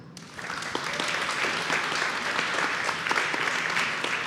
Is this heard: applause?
yes